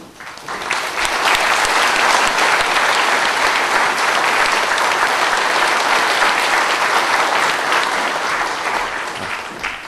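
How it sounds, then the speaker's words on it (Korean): Loud, dense applause from an audience at a deputy mayor's inauguration ceremony, building quickly and holding steady for about ten seconds before easing slightly. "한영의 큰 박수를 부탁드립니다"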